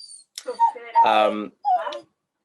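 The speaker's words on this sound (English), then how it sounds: "I've got a little puppy in the background that seems to want my attention." A little puppy whimpers and yips in short, high, wavering bursts nearby, several whines spread over a couple of seconds with brief pauses between them.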